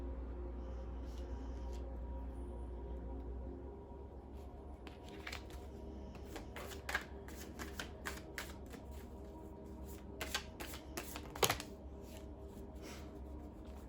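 Tarot cards shuffled by hand in a quiet room, a steady soft riffling and sliding broken by a few sharper snaps and flicks as the deck is cut and squared.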